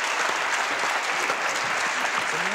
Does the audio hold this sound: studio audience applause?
yes